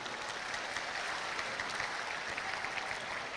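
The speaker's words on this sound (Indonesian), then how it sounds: "Tepuk tangan untuk pemerintah Kota Padang dulu" Applause from the audience at an Islamic sermon by Hilman Fauzi, a steady, fairly faint and even clapping texture heard from a distance.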